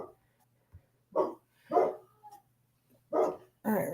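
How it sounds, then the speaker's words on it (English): Dogs bark indoors in a few separate bursts, moderately close, with a short yip between them and quiet gaps in between. "Oh, stupid dogs. Of course they start barking right now."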